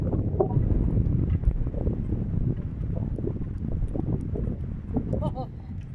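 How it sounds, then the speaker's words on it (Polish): Steady gusty wind roaring into the microphone, a constant low rumble with buffeting, heard alone throughout. "Wieje dzisiaj strasznie, ale fajny, ciepły wiatr."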